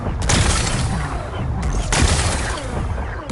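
Rocks blasted away to expose a power cell in the video game Horizon Forbidden West, with a few sharp, booming bursts and crackling debris over a loud, continuous rumble.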